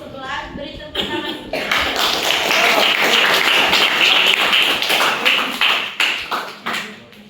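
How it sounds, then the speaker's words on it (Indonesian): Students in a classroom clap loudly and steadily for several seconds after a group presentation. A few taps and shuffles open and close the burst, and voices mix in. "Beri tepuk tangan."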